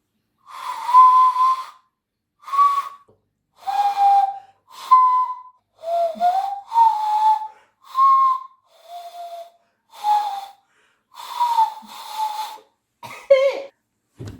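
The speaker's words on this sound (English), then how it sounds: "Okay, I need my ocarina back." An ocarina played in a run of short, separate breathy notes at shifting pitches, each followed by a brief pause, ending on a quick wavering flourish; close and fairly loud.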